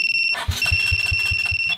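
A motorcycle anti-theft alarm on a Honda RS 125 fi sounds close by, a high electronic tone pulsing in a fast repeating pattern with low rhythmic thumps underneath.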